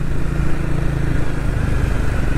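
A Triumph Speed 400 motorcycle engine runs steadily with a loud, continuous low rumble, heard close up and alone, with no voices over it.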